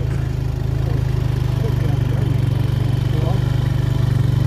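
A farm tractor's diesel engine runs steadily close by, a continuous low throbbing idle with no pauses and no talk over it.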